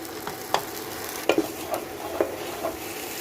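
A ground paste of cashew and melon seeds goes into hot oil tempered with bay leaf, dried red chilli, cumin and garam masala, giving a steady sizzle with a few sharp stirring clicks, close and brief.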